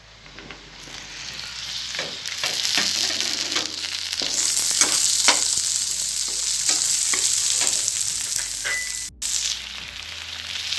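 Tomatoes frying in a pan with browned onions for an Assamese tomato fish gravy, a loud continuous sizzle broken by repeated stirring scrapes, one brief dropout near the end, no voices.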